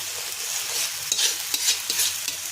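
Tomato spice paste sizzles and fries in a pan while a spoon stirs it in repeated scraping strokes, a close, steady hiss throughout with no voices.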